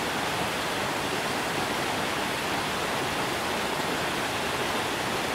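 Kurokuma waterfall in the Shirakami mountains pours in a constant dense roar, a steady broadband rush of falling water heard up close, with no voices or other sounds.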